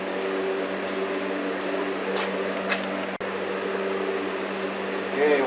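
A Badlands 2,500 pound electric winch on a rear ATV mount runs with a steady close mechanical whine and hum, with a brief break midway.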